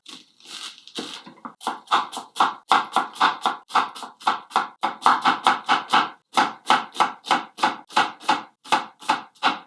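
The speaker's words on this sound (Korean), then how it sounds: "양파 한 개, 아, 같은 사이즈로 또 썰겠습니다." Steady, rapid knife chops slicing an onion on a cutting board, about two strikes per second, close and crisp, continuing without pause and with no talking.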